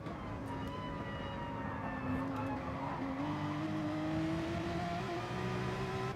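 Race cars in a racing video game at Mount Panorama drone steadily as their engines rise in pitch, a continuous close engine roar with several cars layered and no talk over it.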